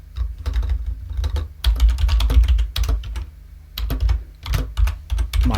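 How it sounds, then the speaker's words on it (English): Steady typing on a computer keyboard while entering Python code, close and clear, with rapid irregular clusters of key clicks and brief pauses between words. "then I'm going to type print my name"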